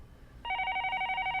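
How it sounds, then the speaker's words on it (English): A telephone rings in an empty hotel room in the Higurashi visual novel, an electronic trilling bell that starts abruptly after a short quiet lead-in and continues steadily and fairly loud. "The phone continues to ring inside Tomitake's empty hotel room."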